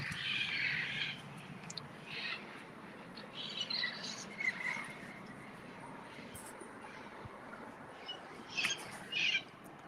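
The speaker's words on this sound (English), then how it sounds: "Oh, you hear those birds?" High, thin chirps from a cluster of baby birds come in scattered bursts over a soft background hiss, fairly faint and somewhat distant.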